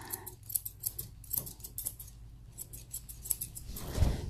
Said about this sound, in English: I'm going to take my scissors on the inside of those thighs